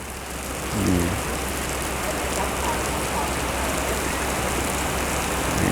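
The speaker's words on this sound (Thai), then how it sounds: "นี่ฝนกำลังตกครับ" Steady rain falls on a surface nearby, a dense, even hiss that carries on alone with no talking.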